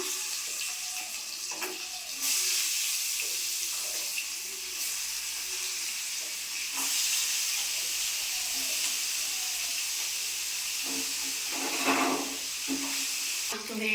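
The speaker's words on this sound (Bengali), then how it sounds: "এই যে কড়া তেল দিলাম মাছ দিলাম" Rohu fish frying in hot oil in a pan, a steady loud sizzling hiss that swells sharply at intervals, with a low voice murmuring briefly near the start.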